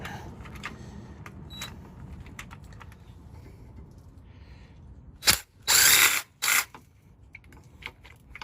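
A ratchet works on the transmission bolts of a Ford 6.0 Powerstroke in an Excursion build, giving a run of quiet close clicks followed by a few loud bursts of ratcheting or tool noise near the end.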